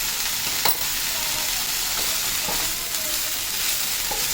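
Broccoli stir-fried in a pan with rock salt, a steady close sizzle under occasional scrapes and taps of a spatula against the pan.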